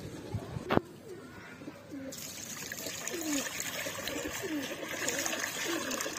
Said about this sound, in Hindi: ये कबूतरों को पिगोन को पानी भी दे देते हैं